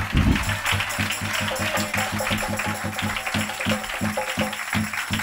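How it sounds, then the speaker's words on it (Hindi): A church congregation at a Hindi fasting prayer service claps loudly in an even, rhythmic beat that keeps going throughout, with voices mixed in. "जोर से ताली बजाओ और शोर मचाकर बोला"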